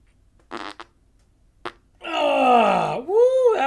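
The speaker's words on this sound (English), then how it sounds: "Oh man, I got fart again." A person passes gas: a couple of short bursts, then a long, loud, drawn-out fart with a falling pitch, followed by a brief rising second squeak, close and clear with no talking.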